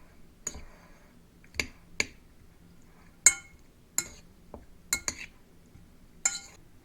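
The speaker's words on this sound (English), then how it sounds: "I'm just going to stir them around till they get good and coated" Chicken wings being stirred with olive oil in a bowl, heard as sparse, sharp clinks of a utensil against the bowl, about eight distinct taps at irregular intervals over quiet background.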